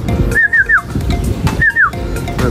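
A racing pigeon arrives at its home loft after a 233 km derby race from Pasacao, Camarines Sur. Two short rising-and-falling whistled calls sound close over a busy, loud background rumble.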